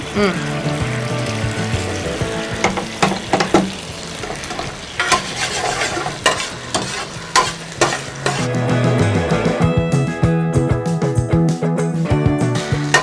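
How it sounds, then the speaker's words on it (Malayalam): Chicken 65 sizzles and bubbles loudly in boiling sauce in a pan while a utensil stirs it, with music playing over the cooking sounds. "ആ സോസ് നന്നായിട്ടൊന്ന് തിളച്ച് വന്നപ്പോഴത്തേക്കാണ് നമ്മൾ ആ ചിക്കൻ ആഡ് ചെയ്തത്"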